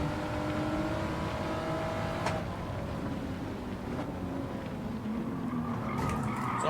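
A Honda NSX Type R races at Fuji International Speedway in the rain in Gran Turismo 7, its engine droning steadily with occasional tire squeal and gear shifts.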